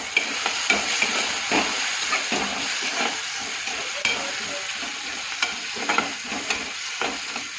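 Tomatoes are stirred into a frying soybean and potato curry in a pan, giving a steady close sizzle with a spoon scraping and clinking in an uneven rhythm throughout.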